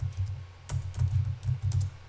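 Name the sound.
typing code on a computer keyboard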